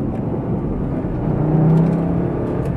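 A Lamborghini Gallardo Superleggera on a track, its engine droning loud and steady before swelling slightly as it picks up speed again, with no voices over it.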